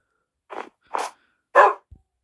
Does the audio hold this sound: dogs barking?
yes